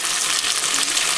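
Rice browning in a hot pan while being stirred, giving a steady, close, fairly loud sizzling hiss with faint scraping, no voices.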